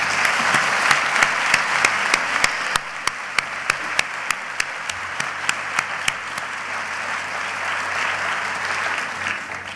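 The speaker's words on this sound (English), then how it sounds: "If we could please give a round of applause to Carol and Jesse." Applause at a legal aid organization's annual event, a crowd clapping steadily with one close, loud clapper beating out a distinct rhythm through the first six seconds, the ovation continuing afterward.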